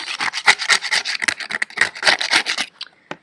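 Dry, weeks-old lumpy oil paint scraped off a painting board outdoors: a rapid series of close, raspy scraping strokes in an irregular rhythm, fairly loud, ending in a few softer scratches with no talking.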